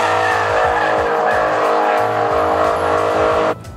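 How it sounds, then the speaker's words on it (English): A 2015 Dodge Challenger SRT8 with its 392 Hemi V8 roars under hard acceleration, a loud, dense engine sound with a rhythmic low pulse that holds steady for several seconds and then cuts off abruptly. "The 2015 Dodge Challenger SRT8. Under the hood, a 392 Hemi."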